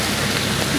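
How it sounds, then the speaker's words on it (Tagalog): Steady rain falling in an outdoor park, a dense, even hiss of drops with no pauses, close and moderately loud. "hindi namin alam kung anong oras hihinto ang ulan"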